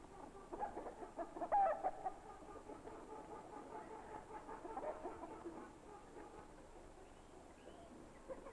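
Chickens on an Austrian farm cluck softly and steadily, a few brief louder calls near the start, with a low murmur of farmyard background throughout.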